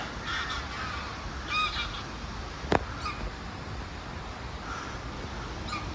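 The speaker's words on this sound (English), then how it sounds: "But at least a flight of geese." A flight of geese honks in scattered calls at a distance over steady outdoor background noise, with one sharp click partway through.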